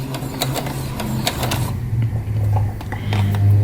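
A sewing machine stitches fabric for a small sunglasses case, with a low motor hum and rapid needle clatter that run steadily and nearby through the whole stretch.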